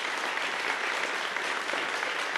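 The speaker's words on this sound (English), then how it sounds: "So let's give a round of applause for the staff here." An audience at a performing arts center ribbon cutting claps for the staff, a brief even spread of many hands clapping at moderate distance, with no voices.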